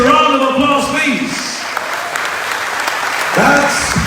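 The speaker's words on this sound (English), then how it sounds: "And we give the graduates a round of applause, please." Graduation audience at the Filipino Institute applauding the graduates, a steady wash of clapping lasting throughout, with a voice talking over it at the start and again near the end.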